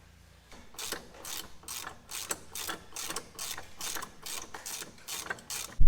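A ratchet wrench works on bolts on a John Deere 6155R front mower, a close, rapid series of evenly spaced clicking bursts in a steady back-and-forth rhythm, ending with a louder knock.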